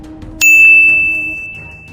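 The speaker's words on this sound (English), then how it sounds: "hit that notification bell so you don't miss the next chapter of history" A single bright notification bell ding rings out sharply and fades over about a second and a half, a clean metallic tone standing alone.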